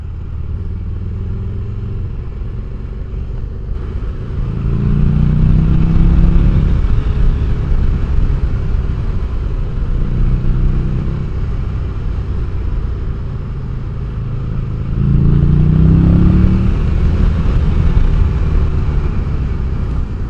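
A Buell XB12 motorcycle rides along a coastal road, its engine a loud, steady close rumble that swells twice as the rider opens the throttle, with wind noise and no voices.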